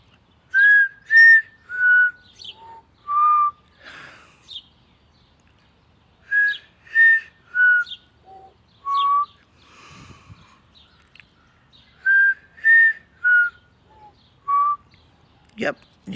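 A person whistles the five-note Close Encounters of the Third Kind theme outdoors, repeating the short melodic phrase three times in clear, loud, pure tones with brief pauses between, alongside faint bird chirps.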